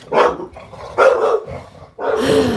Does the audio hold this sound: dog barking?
yes